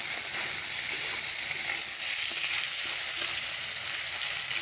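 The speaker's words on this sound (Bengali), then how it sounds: "শুটকি মাছটাকে ভাজা বসিয়ে দিয়েছি" Shutki dried fish sizzling steadily in a frying pan, a dense continuous hiss of hot oil that carries on evenly and fairly loud throughout, with no voices.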